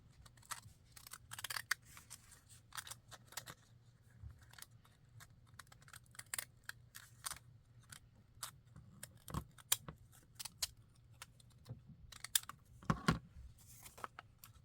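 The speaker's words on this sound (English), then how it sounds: "taking my decollage scissors again, I want to cut off that flap at the line," Decollage scissors snipping through the flap of a paper French fry bag, a run of quiet, sharp cuts and crinkles in an otherwise silent room, close up and irregular.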